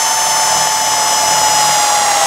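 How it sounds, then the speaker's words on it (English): A drill with a 3/16 bit fitted with a stopper whines steadily at a constant pitch, close up, while boring holes for a mount and airline on a Peterbilt 389 truck, with no talk. "now we're ready to drill holes for the mount and the airline"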